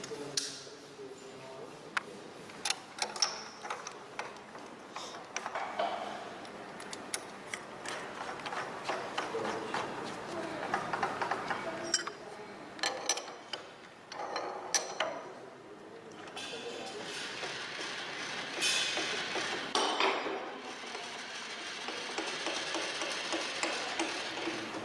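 Metal lathe drilling with automatic feed and a center drill: intermittent ratcheting, clicking mechanical bursts and whirring in a workshop, with quieter gaps between bursts and a voice talking at times.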